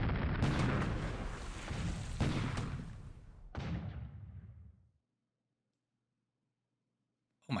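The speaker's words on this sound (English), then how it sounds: "We're bombarding Brisbane." A naval bombardment of Brisbane in the War in the Pacific video game sounds as a series of heavy booming blasts, three or four overlapping rumbling shots over about five seconds, then sudden silence.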